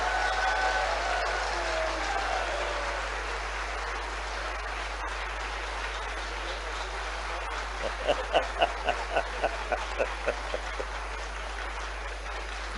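An audience at a state-level National Ayurveda Day event in Bhopal claps, the applause swelling loudly then settling into a steady patter and, near the end, a series of distinct rhythmic claps.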